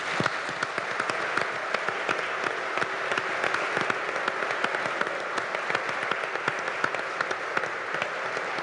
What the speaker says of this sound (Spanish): yo quiero que le brindemos un gran aplauso a todos los organizadores de esta maravillosa actividad